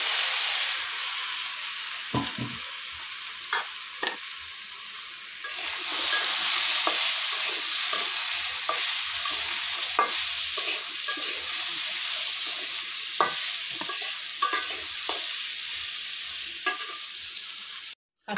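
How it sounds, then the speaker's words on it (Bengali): Green banana pieces coated with turmeric, salt and chili sizzle in mustard oil in a kadai, a constant frying hiss broken by frequent scraping and clattering stirs, with no talking. "কাঁচকলাগুলো হলুদ লবণ মরিচ দিয়ে ভেজে নিচ্ছি।"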